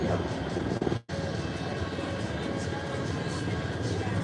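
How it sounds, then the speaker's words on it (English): Aircraft engine drone, likely a news helicopter flying over the Pikes Peak Ascent mountain race, a steady broad rumble that fills the clip apart from a brief dropout near one second. "Is that a chopper that's off to get live footage for us?"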